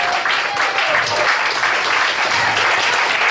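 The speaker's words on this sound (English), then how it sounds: "please give a big round of applause for Bill" Comedy club audience at a cafe comedy night in Richmond, Virginia, breaking into loud, close applause, even and continuous throughout, with a few voices mixed into the clapping.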